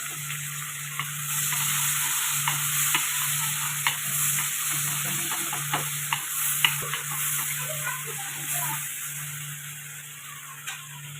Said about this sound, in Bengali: পেঁয়াজটা আমার ভালো করে ভাজা হয়ে গেছে।